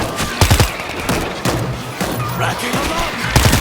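Rapid bursts of gunfire in the video game World War Z Aftermath crack out in clusters, loud and punchy, with short pauses between volleys.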